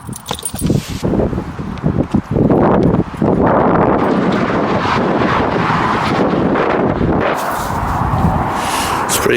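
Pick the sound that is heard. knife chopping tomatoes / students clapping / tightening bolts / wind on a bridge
wind on a bridge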